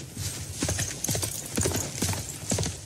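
Horse hooves clip-clop in the strategy video game Civilization VI, a steady trotting rhythm of fairly faint hoof beats running throughout, with no voices over them.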